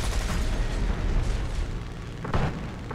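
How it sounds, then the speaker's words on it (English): A loud, sustained explosion in the War Thunder combat game, a deep rumbling boom that fills the whole stretch with a brief sharper burst near the end, set amid ongoing aerial battle noise. "Whoa, mountain explosion."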